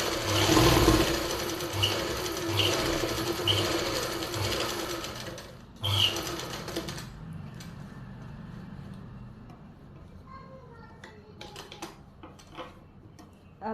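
A sewing machine stitches along the edge beside the elastic on the lining of palazzo pants, running in loud continuous bursts for the first seven seconds, then falling to quieter handling clicks and taps.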